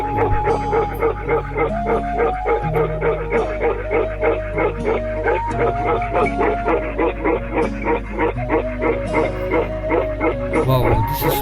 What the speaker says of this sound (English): Wow, this is specific open mode barking.